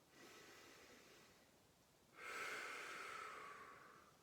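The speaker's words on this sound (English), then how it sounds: "Breathing deep," Slow, deep breaths in an upper-limb morning movement exercise: a soft inhale followed by a louder, longer airy exhale, close and breathy, no talking.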